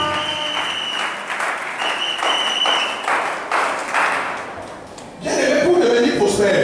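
Congregation at a French-speaking church service bursting into applause and cheering, a burst of clapping that swells loudly near the end after a stretch of steady, voice-like sound beforehand.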